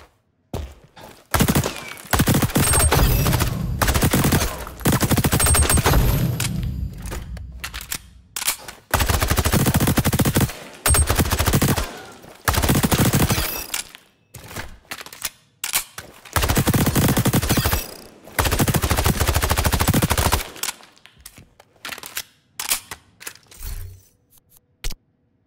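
Gunfire at a firing range in the XDefiant video game: long bursts of loud automatic fire alternate with single shots and short pauses, repeating in heavy volleys.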